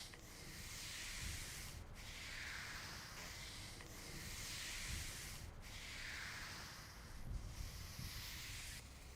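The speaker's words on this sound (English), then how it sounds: "they're just simply with their broom moving those thick spots around" Brooms work a thick acrylic coating across outdoor pavement in steady, repeated broad scraping strokes, a continuous rough brushing hiss that swells and fades with each pass, with no talk.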